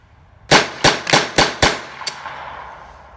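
A stainless Ruger 10/22 target rifle with a hammer-forged 20-inch barrel fires five sharp, evenly spaced shots, then a sixth fainter crack, each a loud close report with a short ringing tail.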